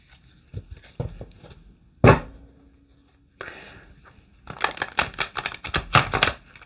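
Disney Villains tarot cards being shuffled by hand, with sharp papery slaps and a short riffling stretch, followed by a quick run of close, crisp card taps and flicks in a quiet room.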